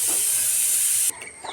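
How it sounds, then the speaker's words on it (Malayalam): A pressure cooker with rice for chicken feed vents a loud, steady steam hiss that cuts off abruptly, leaving quieter background noise. "ചോറ് ഇപ്പോൾ കുക്കറിൽ അടിച്ച് വെച്ചോളൂ."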